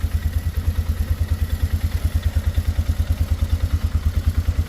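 A small pull-start engine cleaned out at the clutch runs steadily close by, a fast, even chugging thump that repeats without a break and with no talk over it.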